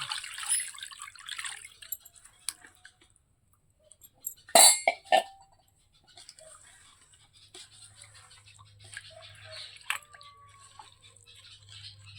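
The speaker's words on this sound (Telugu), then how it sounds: "మొక్కలు మునిగేంత వరకు వాటర్ పోసుకోవాలి" Water poured into a pot of simmering fish curry, with scattered splashes and drips and one brief louder splash midway, close and fairly quiet with no voices.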